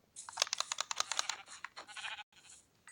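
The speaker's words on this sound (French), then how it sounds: "Oh, le mouton." Sheep bleating in the Minecraft video game, a rapid run of short, bright bleats packed closely together, then a brief gap and a softer final bleat, heard alone without talk.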